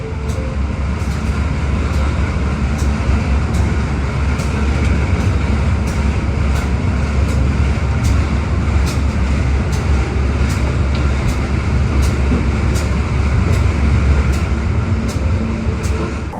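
Economy-class Airlangga passenger train running steadily, with a loud continuous rumble and wheel roar from inside the carriage and faint regular clicks of wheels over rail joints throughout.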